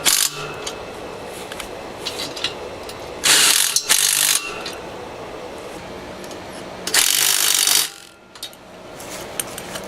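A ratchet wrench tightens bolts on a Harbor Freight cement mixer during assembly, loud close bursts of fast clicking in two main runs against a noisy, clattering workshop background.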